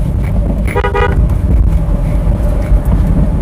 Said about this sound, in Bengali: এখানে কিন্তু হর্ন দিচ্ছে সরতেছে না